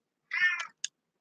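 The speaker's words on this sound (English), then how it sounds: "y'all can watch the kitties come in the window" Cats coming in through a window: one clear, drawn-out meow followed by a short chirp, close and alone in an otherwise silent room.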